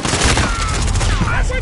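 Loud, dense gunfire rattles through a Modern Warfare multiplayer match, with rapid shots stacking into one continuous fusillade. Game noise rings close behind the shooting.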